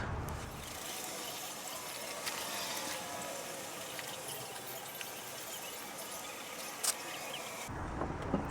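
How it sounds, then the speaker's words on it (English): Oil drains steadily from a car's oil filter, a soft continuous trickling wash heard up close and faint, with a couple of small metallic clicks near the end. "Drain the oil from the oil filter."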